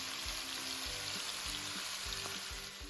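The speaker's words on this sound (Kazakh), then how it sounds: "Етімізді қызарғанша қуырамыз." Lamb rib meat frying in its own fat in a pan, a soft, steady sizzle with low thumps of the meat being stirred and turned.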